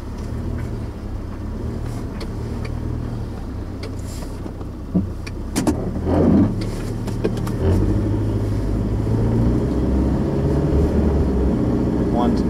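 A car with an F4A42 automatic transmission drives in reverse after shifting, its engine a steady low hum with road rumble close by, briefly rising around the middle, with no talk.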